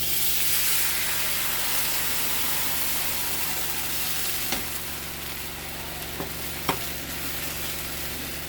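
Spiced whisked yogurt hits a hot chilli tempering for a spinach curry, raising a loud steady hissing sizzle that slowly softens, broken by a few sharp clinks of a utensil.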